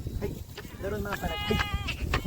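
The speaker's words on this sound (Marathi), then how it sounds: "आजूबाजूला भरपूर अशा मेंढ्या आहेत" Sheep from a Dhangar herder's flock bleat close by in the open in a wavering, nasal cry, mixed with voices talking at the same time.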